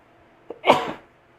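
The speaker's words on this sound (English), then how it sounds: "have to sneeze a lot today" A single close sneeze, a short sharp intake followed by a loud burst, then quiet.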